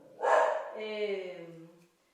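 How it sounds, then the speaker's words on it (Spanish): An angry dog gives a single drawn-out, harsh bark that trails into a falling whine, loud and close in an otherwise quiet room. "Ahí hay un perrito enojado."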